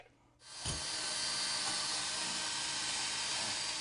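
WD-40 aerosol sprayed onto the splines of a car axle shaft during a wheel hub assembly replacement: after a quiet start, a steady close hiss begins and continues unbroken to the end.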